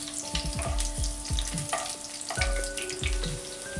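Six French beans cut into two-inch pieces fry in oil in a kadhai, a steady loud sizzle broken by repeated stirring scrapes and clinks, with no talking.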